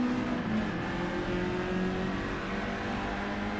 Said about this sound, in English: Dulcet tones of a Mazda engine.